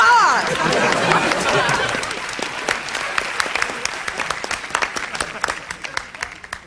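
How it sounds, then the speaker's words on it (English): A studio audience applauds on a television talk-show set in a dense burst of clapping that slowly thins into scattered claps, with crowd chatter mixed in. "Don't stop! Keep up the clapping!"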